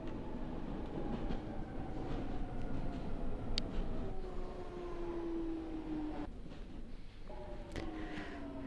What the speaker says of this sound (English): But here comes our train.